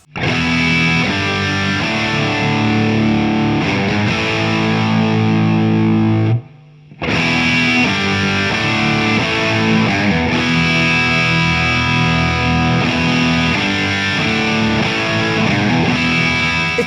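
A loud, heavily distorted electric guitar churns thick chords with a brief drop-out midway, then continues dense and driving.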